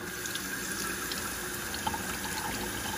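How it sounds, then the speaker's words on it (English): A kitchen sink fills from a running tap, giving a steady, close rush of water that continues throughout without a break. "We're going to go over to our sink, and we're going to fill it up with water."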